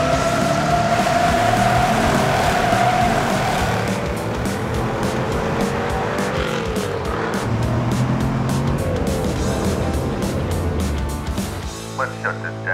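Chevrolet Corvettes racing side by side, engines roaring and revving hard as they accelerate, a loud continuous drone with shifting pitch that ends in a sudden drop-off.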